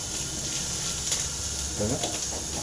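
Onions and curry leaves frying in a pan for a cabbage dish, a continuous close sizzle with a faint hiss and occasional soft stirring, and a brief murmur of voice near the end.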